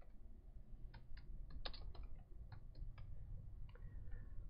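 Text being typed on a computer keyboard in Paint.NET: quiet, irregular key clicks in short bursts over a soft room hum, close and faint, with no talking.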